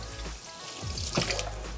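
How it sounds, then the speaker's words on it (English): Dirty water from the tank of a Bissell Crosswave Pet Pro vacuum mop pours and trickles out in a short, close splash that builds and then sputters, with no one talking. "the water that's on here, you guys want to pour it because that is the dirty water"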